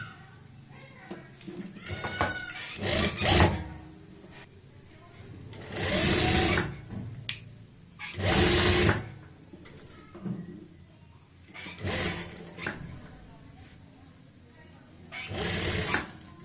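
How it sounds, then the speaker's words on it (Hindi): A sewing machine stitches a strip of fabric around a kameez neckline, in several loud bursts of whirring between pauses, with someone talking in the gaps. "ये मार्जिन आप देख रहे होंगे जितना हमने निशान लगाया है उतना ही हम यहाँ पे मार्जिन लेते हुए सिलाई लगाते हैं"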